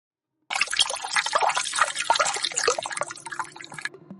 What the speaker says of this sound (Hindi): तभी पानी से किसी के निकलने की आवाज आती है